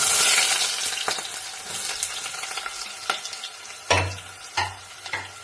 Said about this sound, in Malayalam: നല്ല ചൂടായി വന്നിട്ടുണ്ട്. ഇച്ചിരി ഉലുവ ഇട്ട് കൊടുക്കാം.